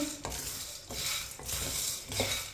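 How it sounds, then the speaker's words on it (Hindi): A spoon stirs roasted chickpeas heating in a pan over a low flame, scraping in regular strokes about every half second with a faint sizzle underneath. "इसे ऐसे ही चम्मच चलाते हुए अच्छी तरह गर्म कर लेंगे।"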